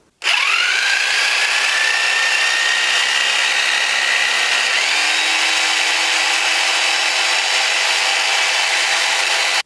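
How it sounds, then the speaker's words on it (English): A jigsaw powered by an EcoFlow RIVER Pro portable power station runs continuously through wood, a loud, steady buzzing whine that starts abruptly and holds for nearly ten seconds. "So, handled the jigsaw just fine."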